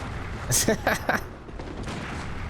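Pistol shots from a hunter's sidearm in Bloodborne, fired during a fight in the Nightmare of Mensis: three quick sharp reports close together, set over a low game ambience.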